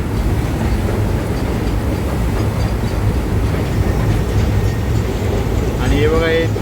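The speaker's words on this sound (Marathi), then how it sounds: "दुसरी ट्रेन येईल मित्रांनो." A freight train rumbles past close by at a waterfall near Khopoli, a steady continuous roar of wheels on rail with rushing water beneath, and brief squeals near the end; people speak over it.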